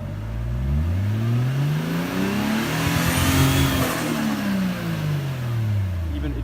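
A 1JZ engine swapped into an FC RX7 drift car revving up from idle and back down, a rough, close engine note that stutters and breaks up near the peak of the rev.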